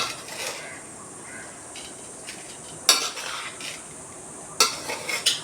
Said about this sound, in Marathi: आता ती छान ढवळून घ्यायची आहे